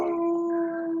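A dog gives a close, steady, sustained howl with a clear pitched tone lasting about a second, loud and heard alone.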